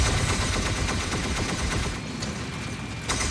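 Rapid weapon fire from mechs in the Mech Arena video game, a dense continuous machine-gun-like stream of shots, loud and close, with no talking.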